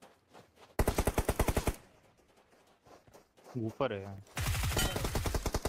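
Rapid automatic gunfire bursts ring out in the mobile battle royale game Battlegrounds Mobile India, with two loud fast strings of shots separated by a pause, while someone speaks briefly in between.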